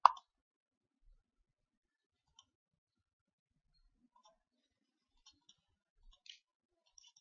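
A few sparse mouse clicks on a computer running the BlueStacks Android emulator, with one sharper click at the start and then soft, widely spaced single ticks across an otherwise quiet stretch.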